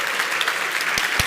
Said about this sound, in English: Yo, get up, come on, round of applause.